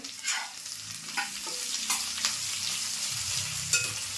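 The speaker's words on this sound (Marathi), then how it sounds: "आता मी कांदा टाकते कांदा पण कसा व्यवस्थित असा भाजून घ्यायचा" Onion frying in a pan while a spoon stirs it, a continuous hiss of sizzling broken by repeated scraping strokes at an irregular pace, close up with no voices.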